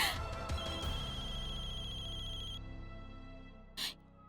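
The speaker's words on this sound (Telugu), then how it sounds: "ఇది నా ఫోన్ కదా, అది నా ఫోన్. మా అమ్మే చేస్తుంది." A mobile phone rings indoors with a steady electronic tone that cuts off partway through, followed by a brief short sound near the end.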